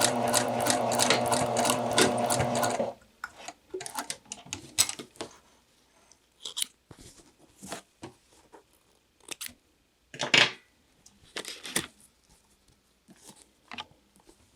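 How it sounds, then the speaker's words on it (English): A sewing machine stitches down a fabric corner in a close, steady whirring run for about three seconds, followed by scattered clicks, taps and fabric handling. "I'm just going to continue stitching down the rest of this corner. And back tack at the end."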